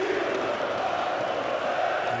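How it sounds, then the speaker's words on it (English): A packed handball arena crowd at a European championship match between Denmark and Macedonia roars steadily, a dense, continuous wall of cheering and shouting with no break. "And the crowd seem delighted."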